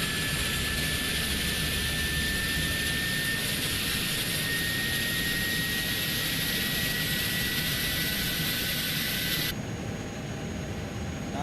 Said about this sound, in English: Nice APU spool up.